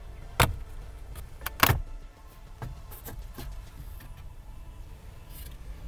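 A pry tool works loose the plastic dash bezel of a Lexus GS350. Two sharp, close snaps ring out near the start, followed by a few lighter clicks and taps over a quiet background.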